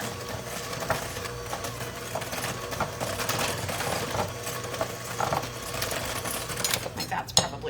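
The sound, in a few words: stand mixer creaming cookie dough on medium speed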